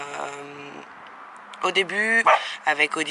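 A pet dog barks and yips in several short, loud bursts indoors, following someone speaking French.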